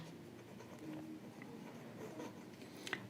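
Faint pen or marker strokes on a board during a physics lesson on reflection of light, soft scratchy squeaks in short bursts over a quiet room hiss, ending with a small tap.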